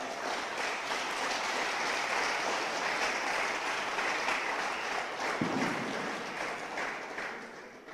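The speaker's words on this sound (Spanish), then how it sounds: "Dale una ofrenda de aplausos al Señor" A church congregation gives a steady, even wash of applause to the Lord, sustained for several seconds at moderate distance, with no talk over it.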